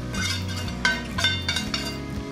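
Spices for butter chicken stirred in a pan, including red chilli powder and cumin powder: a metal spoon scrapes and clinks against the pan in a quick, uneven rhythm, close and steady, with no talking.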